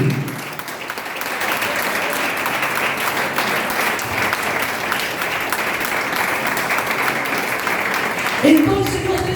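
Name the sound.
congregation applause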